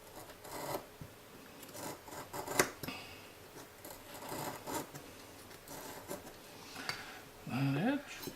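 Small scraping and cutting strokes as a blade trims a tiny piece off a plastic model part along a straight edge, close and quiet, with brief handling noises and a short voiced sound near the end.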